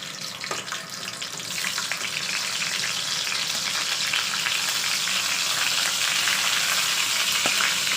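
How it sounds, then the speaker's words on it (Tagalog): Shrimp fry in hot cooking oil, giving a loud, dense, continuous sizzle that swells slightly and holds steady throughout, with a couple of faint clicks and no voices. "I-fry muna natin yung shrimp. Simple, maglalagay lang tayo ng cooking oil. Then, fry lang natin."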